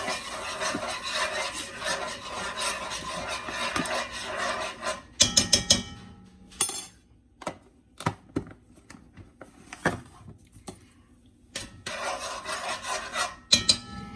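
Ingredients with garlic being mixed in a bowl, steady scraping and stirring strokes of a spoon against the sides in rhythmic bursts, pausing briefly between rounds of mixing, close and fairly loud.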